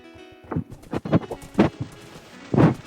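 Horse hooves clip-clop in an MMO video game, a handful of distinct close thuds at an uneven gait over a quiet background.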